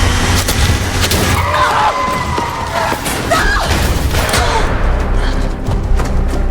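In an action film chase, a car escapes, with loud engine roar, tyre skids and heavy thumps and crashes in a dense, continuous burst of vehicle noise.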